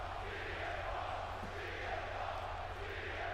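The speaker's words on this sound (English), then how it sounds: "Crowd is hot for CM Punk." A wrestling arena crowd in WWE 2K26 roars in a continuous, dense wash of cheering, loud and unbroken throughout, with no distinct voices standing out.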